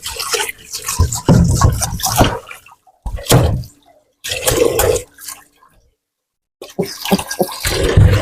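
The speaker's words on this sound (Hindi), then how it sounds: "मजा गर्म पानी से बर्तन धोने का" Hot running water at a kitchen sink while dishes are washed by hand, bursts of splashing and clinking separated by short quiet gaps, close and fairly loud.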